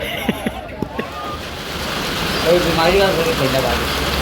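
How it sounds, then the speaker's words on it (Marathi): Morning rain falling steadily outdoors, a continuous hiss and patter that swells louder midway, with a few sharp knocks early on and faint voices in the background. "ते पाऊस पडतो आहे"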